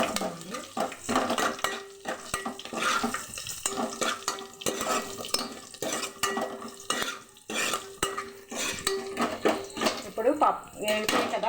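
Garlic frying in a pan, a busy sizzle under frequent clattering spoon strokes and pot knocks, loud and close, with brief vocal sounds in between.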